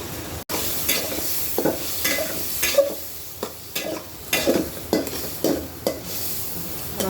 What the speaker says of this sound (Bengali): চিংড়ি মাছটা ভাজা হয়ে গেছে আর নামিয়ে নেবো